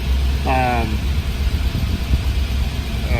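A 1964 Corvette roadster with a 327ci 365hp V8 idles steadily at a low, throbbing rumble, with a person speaking over it partway through.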